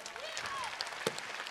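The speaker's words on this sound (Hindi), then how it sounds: "चलो एक बार जोरदार तालियों से इस्तकबाल।" An audience applauds at a Republic Day celebration at an Islamic seminary in Akkalkuwa. The clapping is faint and diffuse, and a voice talks over it.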